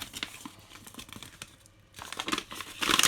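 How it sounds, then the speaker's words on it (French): Bubble wrap crinkles and crackles as it is handled while an in-line polished off-road exhaust pipe is unpacked; close, irregular crackling bursts with a brief quiet gap before louder crinkling. "On a un papier bulle avec la ligne."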